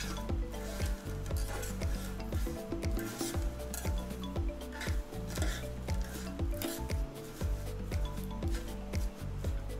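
Dried mugwort flowers are stirred in a pan with wooden tongs while making flower tea, a steady rustling, scraping rub with light rhythmic clinks against the pan throughout.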